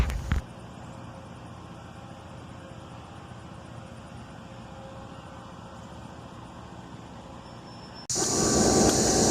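A CSX freight train led by a GP30 locomotive rolls past at night with a steady, continuous rumble of wheels and cars, then a sudden louder, brighter roar near the end as it passes close.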